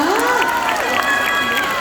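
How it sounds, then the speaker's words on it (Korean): A crowd at a school festival cheers and applauds loudly. Overlapping shrieks and voices sit over continuous clapping throughout a short burst. "일단 박수로 맞아보도록 할게요."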